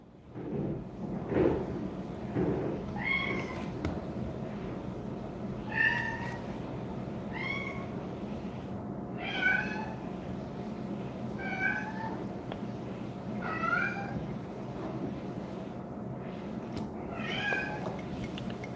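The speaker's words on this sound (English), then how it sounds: "This cat about to get kicked out." A cat meows again and again, about eight drawn-out cries spaced a couple of seconds apart. The meows are moderately faint over a steady low indoor hum.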